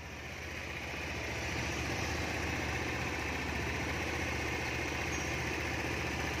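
A Thai-made 2009 Honda Air Blade FI scooter idles up close, its small engine giving a steady, even hum with faint vibration that swells slightly at the start and then holds level, with no talk.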